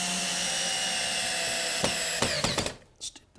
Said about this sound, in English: I'm going to attach these together with some 3-inch screws